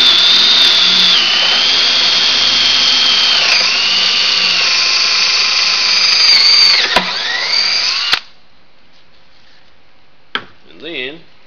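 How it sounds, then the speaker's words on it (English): A power drill bores through the leg and frame of a wooden backyard cornhole board, a loud, steady high whine lasting about eight seconds, its pitch sagging a few times under load, then stopping abruptly before some faint handling sounds. "I'm going to bore through both of these at the same time, the leg and the"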